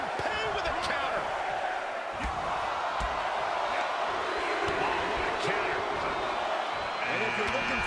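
Wrestling arena crowd during a 30-man AEW Royal Rumble match roars steadily, with thuds and slams from the ring mixed in, under continuous commentary.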